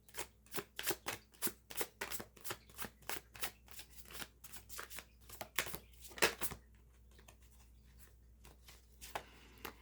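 A deck of oracle cards shuffled by hand, a quick run of crisp riffling flicks close up, then a few scattered taps and slides after a short pause.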